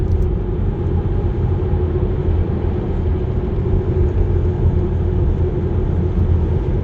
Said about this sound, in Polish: Tam jakiś samolot leci, które wodę zrzuca.